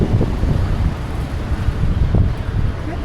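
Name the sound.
wind blowing on the microphone outdoors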